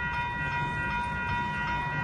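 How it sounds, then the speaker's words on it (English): Union Pacific freight train backing up in reverse, a loud, steady rumble of rolling railcars with sustained high tonal squeals from wheels and brakes, close by and continuous. "Train's backing up."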